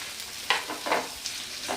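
Curry leaves frying in ghee for moong dal khichdi, stirred with three or four brief scraping sweeps over a light sizzle, close and without talk.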